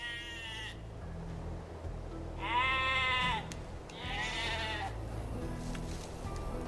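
Sheep bleat in a farm-building strategy video game, several wavering calls over about seven seconds above a low steady game background.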